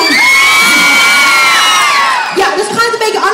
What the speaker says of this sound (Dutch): Mag ik nog een hard applaus voor de jongen?